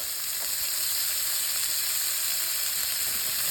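An egg and hash browns sizzling on a hot griddle, a constant bright hiss of frying fat running evenly throughout, close and loud with no voices.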